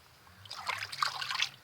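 Spring water trickles out of the ground on a nature walk in Jamaica, a soft, close bubbling and dribbling that swells and fades over a faint low hum.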